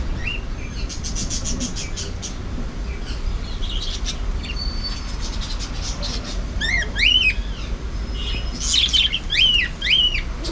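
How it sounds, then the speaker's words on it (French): Small birds chirp and squawk in a green spot in Kinshasa, with bursts of high, rapid tweets and sweeping calls over a steady low background hum of traffic. "Il y a des petits oiseaux et tout là"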